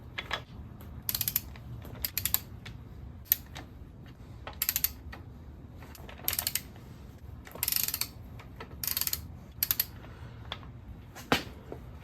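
A ratchet running down crankshaft main cap bolts on a Ford 351C/400/351M engine, repeated bursts of fast metallic clicking separated by short pauses, close and clear with a low background hum.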